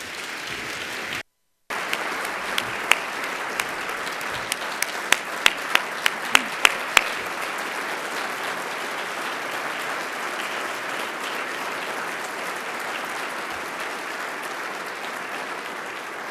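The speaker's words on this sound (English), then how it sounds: "Let's give another round of applause to both our students." Sustained applause from a large audience at an education awards ceremony, dense and even clapping that carries on steadily for many seconds with a few louder individual claps.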